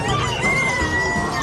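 Ducks, geese and turkeys, including Peking ducks, call at an outdoor pet and livestock market, their squawks and cries layered over a dense, continuous crowd of voices and market noise.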